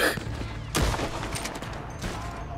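Bursts of rapid gunfire in Red Dead Online crackle in quick succession, with a sharp louder volley partway through, under a busy background of game sounds.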